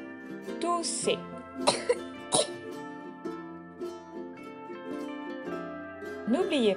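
Several sharp coughs burst out at irregular intervals, close and fairly loud, over a steady musical background.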